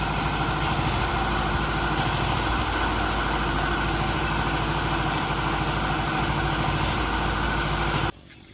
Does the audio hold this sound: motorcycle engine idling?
yes